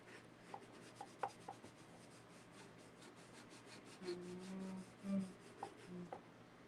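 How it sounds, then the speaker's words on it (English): Quiet scraping and rubbing strokes as a craft lantern piece is burnished, soft and close, with a few light taps and brief low hums in between. "let's burnish this one down"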